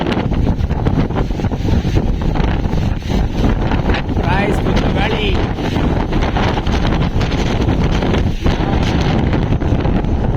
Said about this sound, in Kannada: ಗಾಳಿ ಮಾತ್ರ ಮಸ್ತಾಗಿ ಹೊಡಿತೈತೆ